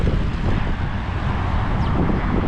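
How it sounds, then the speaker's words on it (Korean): Cold wind blowing steadily outdoors in Georgia, a continuous broadband rush buffeting the microphone throughout with no clear gusting breaks. "여기 날씨 춥고 바람 많이 부는데"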